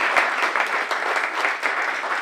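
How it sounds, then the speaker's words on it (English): An audience at an evening poetry reading applauds, a steady, dense wash of clapping that stays loud and even throughout with no speech over it. "Let's give them a round of applause, please."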